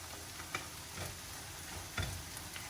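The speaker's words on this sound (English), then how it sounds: "I'm going to go ahead and add my capers to my onions." Capers go into a pan of tender, cooking eggplant and onions. A steady close sizzle is broken by a few soft taps and stirring bumps.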